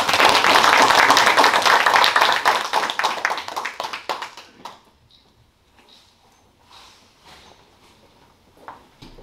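Applause at a memorial peace park's 10th-anniversary ceremony: loud, dense clapping from a crowd that thins into scattered claps after about four seconds, then quiet room sound with a few faint taps.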